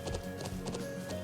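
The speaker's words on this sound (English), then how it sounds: "Horse." Horse hooves clip-clop in a quick, steady trotting rhythm, with a whinny mixed in, in the video game Trails of Cold Steel. The sound is close and clear.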